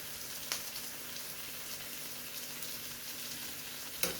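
Sausages fry in a pan with a steady, even sizzle throughout, broken by a couple of sharp pops near the start and near the end.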